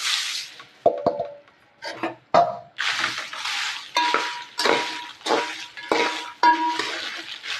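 Elephant yam pieces are stirred in hot oil in a pan, giving a steady run of close scrapes, clinks and splashy sizzling bursts in an uneven rhythm.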